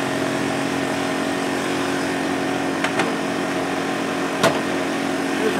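A portable Honda four-stroke electric power generator runs with a constant, steady hum and buzz, close by, with two or three faint brief clicks over the drone.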